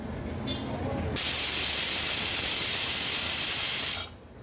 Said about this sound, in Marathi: एक एक करून 3 शिट्ट्या आपण कुकरच्या काढून घेतल्या आहेत